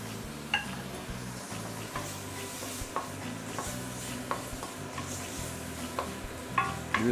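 Curry leaves sautéing in oil for a vegetable curry give off a steady low sizzle, with the stirring utensil scraping and tapping the pan every second or so, close up and with no voices.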